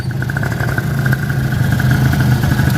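A Honda Tena motorcycle engine, in a bike modified ATV-style for farm use, idles close by with a steady, even putter and a faint clattering tick.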